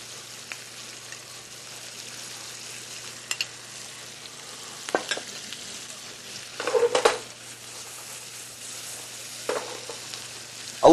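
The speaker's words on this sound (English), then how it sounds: "you want to also saute them until they're just above translucent" Vegetables sauteing in a pan for shrimp etouffee, a soft steady sizzle broken by spoon scrapes and a couple of louder clatters against the pan, with no voices.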